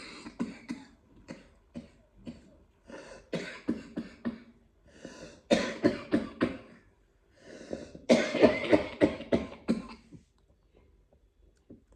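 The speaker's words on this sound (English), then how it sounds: "I have a cough." A person coughs repeatedly in clusters of harsh, close bursts with short breaths between, interspersed with throat clearing and brief quiet gaps.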